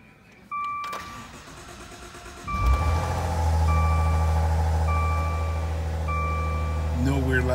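A 2015 Maserati Ghibli starts up: a sharp click and chime tones, then the starter catches and the engine fires into a steady, low, close idle that rises slightly near the end.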